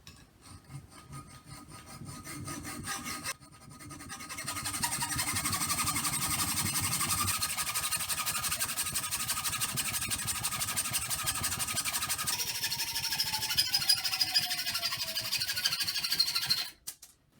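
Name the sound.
cutting off the end of a large metal nail held in a vise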